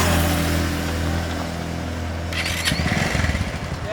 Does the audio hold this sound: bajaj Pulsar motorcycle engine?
yes